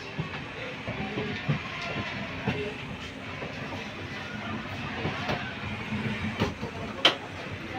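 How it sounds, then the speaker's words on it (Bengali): Aboard the Kalka–Howrah Netaji Express on the Bardhaman–Howrah line in a sleeper coach, a steady rolling rumble carries faint clicks and occasional louder clunks, with people talking over it. "আমাদের ট্রেনটা আপাতত এখন সাইড লাইন দিয়ে যাবে"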